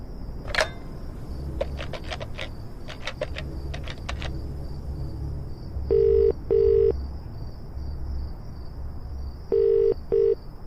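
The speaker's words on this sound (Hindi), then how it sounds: "सौम्या ने अपना फोन नंबर दिया था, मैं उससे बात करता हूं।" A telephone handset beeps through a short run of dialing key tones, followed by two pairs of steady ringback tones on the line, all over a faint hum with no talk.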